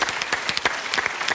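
A studio audience on a French television game show applauds in a short burst of dense, even clapping, with no talk.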